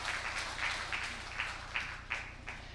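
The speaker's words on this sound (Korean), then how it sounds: "우리 하나님께 큰 영광의 박수 한번 하겠습니다" Scattered, fairly sparse clapping from a church congregation at a Sunday service, a handful of distinct claps standing out over a low steady hum.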